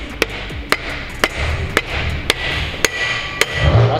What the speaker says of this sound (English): get a rubber mallet. And then we're just gonna tap it on right there